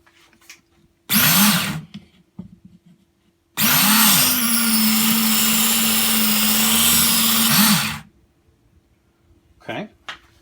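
A Smith's belt knife sharpener runs while a knife edge is put on it, giving two loud, steady motorized grinding passes, one brief and one several seconds long, with quiet pauses and brief talk between.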